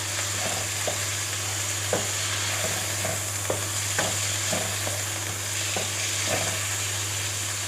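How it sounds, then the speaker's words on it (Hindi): Small cubes of chicken fry and get stirred in a pan, a steady close sizzle broken by repeated scraping strokes of a spoon, with a low hum running underneath and no talking. "चिकन को हम हल्का सा फ्राई करेंगे"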